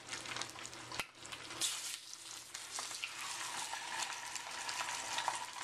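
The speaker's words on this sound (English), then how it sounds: "we're just gonna lay them down in the frying pan" Trout sizzle and crackle in a hot frying pan, a continuous fizzing hiss with scattered pops and a clack of the pan near the start.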